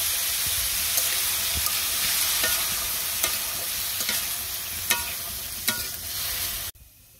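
Potatoes frying in a pan, a steady crackling sizzle with intermittent sharper pops and scraping stirs, close and clear, cutting off abruptly at the end.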